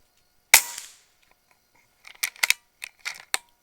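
One sharp, close air rifle shot from an Air Venturi Avenger .22 PCP, followed by a quick decay and then a scatter of faint clicks and handling noises.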